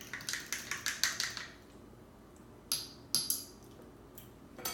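Spoon or whisk clinking rapidly against a container while vinaigrette dressing is stirred, a quick run of bright metallic taps in the first second and a half, then a few scattered clinks after a pause.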